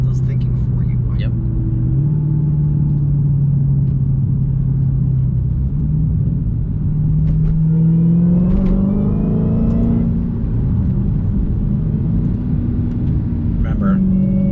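Dodge Challenger Hellcat Redeye in sport mode, its engine a loud, steady low drone heard from inside the car, swelling briefly as revs climb midway, with voices talking over it.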